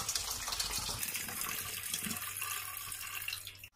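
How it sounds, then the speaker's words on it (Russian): Water pours steadily through a perforated lid from a jar of tomatoes being marinated into a pot, a close, continuous gushing stream that runs for several seconds and then cuts off abruptly. "и сливаю воду в кастрюлю"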